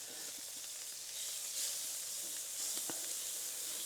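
Butter sizzling on a Blackstone griddle, a steady close hiss and crackle with small pops throughout and no talking.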